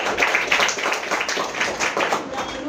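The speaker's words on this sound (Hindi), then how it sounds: "एक बार जोरदार तालियां मेहर जी के" Crowd applause for Meher, a housewife, at a business plan presentation event: dense, steady clapping from many hands, fairly loud and continuous throughout.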